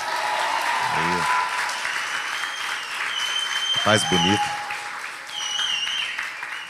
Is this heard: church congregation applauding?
yes